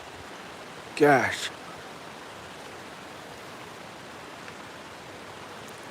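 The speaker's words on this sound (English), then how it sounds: "Gosh, it has been raining and raining." Continuous soft hiss of rain falling outdoors, even and unbroken throughout, with a brief spoken exclamation near the start.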